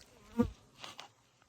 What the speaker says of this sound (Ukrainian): Бджоли працюють, собі поїсти приносять.